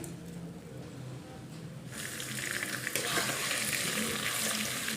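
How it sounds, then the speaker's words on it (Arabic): Rice frying in a pot for koshari: a faint hiss at first, then a sudden loud close sizzle that stays strong and steady, with some stirring noise and no talking. "هنحط بقى دلوقتي الرز نحمره."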